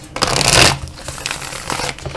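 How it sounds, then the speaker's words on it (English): A deck of tarot cards is shuffled near and loud, a quick riffling flutter followed by a few softer card slaps and rustles. "I'm going to give this one more shuffle"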